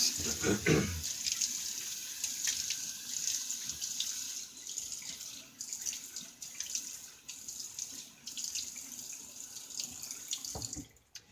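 A bathroom tap runs into a sink while the face is wetted before a shave with a Gillette Aristocrat razor, a steady close hiss of flowing water with splashes and hand noises, broken by occasional speech.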